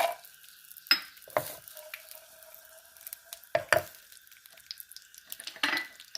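Mustard seeds crackling in hot peanut oil while cooking mango rice, with quiet sizzling and sharp pops, a few clinks and stirring scrapes of a pan, heard close and fairly soft.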